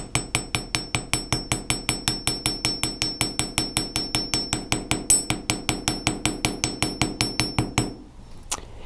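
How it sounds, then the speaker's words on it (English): A hammer strikes metal wire on a jewelry bench to texture it, about forty sharp ringing blows in a steady fast rhythm, close and loud, then stopping with one last faint tap. "I'm just going to come in and strike along the wire here"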